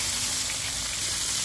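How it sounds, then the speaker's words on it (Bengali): Pieces of rohu fish fry in hot oil in a wok, a loud, steady, bright sizzle that stays constant without pause. "মাছগুলো আগে ভাজি করবো"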